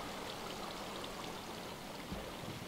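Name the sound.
water cascading in Minecraft video game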